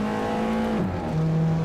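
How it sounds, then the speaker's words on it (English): A mid-engine car in the Assetto Corsa racing game revs high and loud, drops sharply as it shifts gear, then settles into a steady lower drone. The engine runs continuously with no talk. "I can't get over that noise it makes on the shifting."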